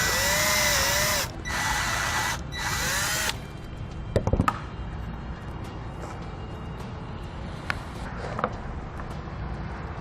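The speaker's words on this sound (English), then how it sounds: "Now we'll use a step bit to enlarge it to the size indicated in the instructions." A power drill with a step bit enlarges a pilot hole while a fuse bypass switch is installed on a towed vehicle: three short, loud whining bursts, then scattered light clatter and taps.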